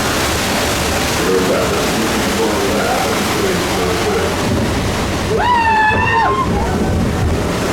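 The Splash Mountain log flume at Magic Kingdom rushes through water with a loud continuous wash and sloshing, close and full, while a rising whistle-like tone sweeps over the splash near the end.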